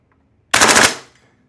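EMG CGS DDM4 PDW airsoft rifle fires a short full-auto burst, a rapid, loud, close rattle of several shots lasting under half a second, then quiet.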